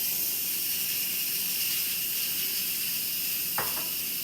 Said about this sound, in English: Gonna let up the steam.